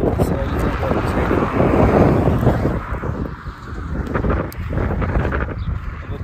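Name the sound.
wind blowing outdoors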